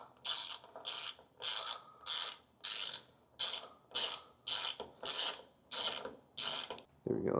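A hand ratchet loosens a bolt on a Ducati motorcycle's gas cap, giving about eleven close, crisp bursts of clicking in an even back-and-forth rhythm, ending with a soft thud.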